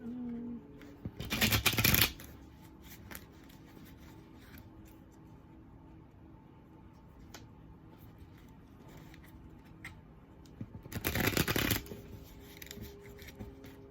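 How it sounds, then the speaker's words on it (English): Two short bursts of tarot cards being riffle-shuffled, a few seconds each, separated by a long quiet stretch with faint handling noises. "Sometimes the way I be shuffling be stressing me out"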